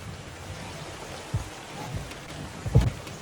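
A waterfall in the video game Pressure gives off a soft, steady rushing hiss, broken by a couple of dull low thuds, with no one speaking over it.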